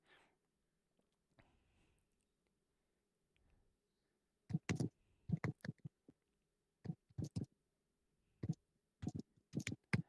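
Computer keyboard typing by a player during an online poker game, bursts of crisp, close key clicks in irregular clusters after a quiet stretch, with no one speaking over them.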